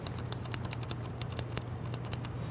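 Crisp, clicky typing on a mechanical keyboard with blue switches in a quick, steady rhythm of sharp keystrokes, close up over a low background hum.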